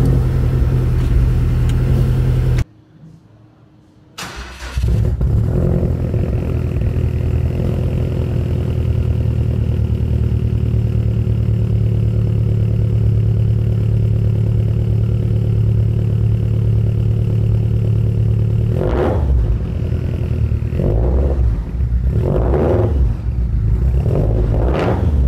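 Stroked 2017 Subaru WRX STi making about 500 wheel horsepower cranks and fires after a brief silence, settles into a loud steady idle, then several sharp throttle blips rev it up near the end.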